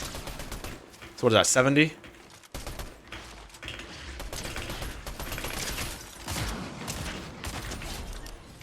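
Burst of gunfire in a Fortnite solo match, a short loud volley around the middle of the clip, followed by game ambience while a player talks.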